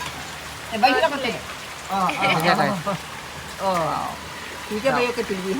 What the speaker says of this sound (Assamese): এইপিনে পুৰা বৰষুণো পৰি আছে